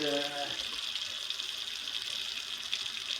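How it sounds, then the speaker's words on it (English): Water runs steadily from a kitchen faucet with a constant splashing hiss, as a voice speaks briefly at the very start. "Turn that water off."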